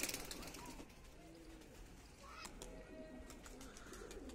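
Soft pigeon cooing in a quiet outdoor setting, faint and somewhat distant, with low background hum and occasional light noises.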